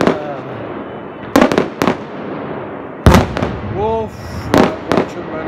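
L70 fireworks go off loudly during a night celebration, with several sharp, close booming bursts at irregular intervals, while excited voices shout and exclaim between the blasts.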